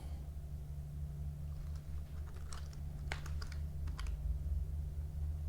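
Typing on a home-built mechanical keyboard that has been unreliable since breaking, with a few scattered clicks and short bursts of keystrokes over a steady low hum, moderately close and fairly quiet, no voices.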